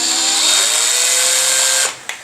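A power drill whirs steadily as it bores a hole for assembling a Bananabarre ballet barre, a loud, even high-pitched whine that cuts off abruptly near the end, followed by a brief click.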